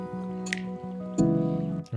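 Water-drip nature sounds layered into a lo-fi beat: a few soft, squishy drips scattered over sustained, mellow harmonic music tones, with no voices.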